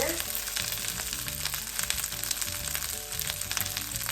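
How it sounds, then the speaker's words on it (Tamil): Mint and coriander leaves sauté in a pan for chutney, a continuous crackling sizzle with steady fine popping, close and moderately loud, over faint background music. "இந்த இலையல் வதங்கிட்டு"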